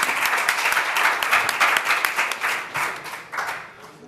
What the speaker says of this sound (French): Des applaudissements d'abord